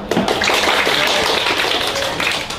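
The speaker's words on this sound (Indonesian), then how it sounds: "Tepuk tangan." Lively clapping and tapping from a crowd of students at a school gathering, continuous and fairly loud, with voices mixed into the noise.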